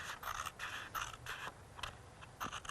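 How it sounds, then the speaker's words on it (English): Big scissors snip through craft material in quick close-up strokes, a series of crisp crunchy cuts with a scraping edge, repeating in a loose rhythm of about seven bursts. "So now we get to cutting it up. Some big scissors."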